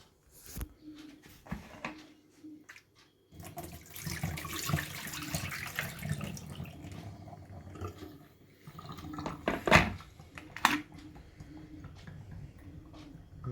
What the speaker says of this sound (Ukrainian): зараз вильємо воду і подивимось на результат